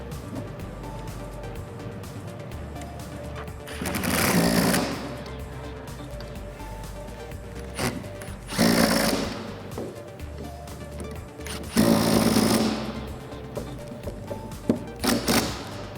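A front strut spacer on a Toyota Tacoma lift kit is fastened with the original 14mm hardware, heard as several separate bursts of a ratcheting or power tool spinning nuts onto studs, each a second or so long, between quieter pauses.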